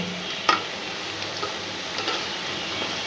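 Frozen snack items crackle and sizzle as they deep fry in hot oil, a steady bright fizz heard up close, with a light knock at the start and a few faint stirring touches.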